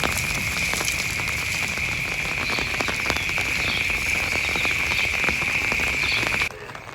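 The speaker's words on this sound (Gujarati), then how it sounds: "અત્યારે આપણે ધીમો ધીમો વરસાદ ચાલુ છે" Light rain falls over a village in a steady, close hiss of patter with a faint high insect-like whine running through it, then thins out abruptly just before the end.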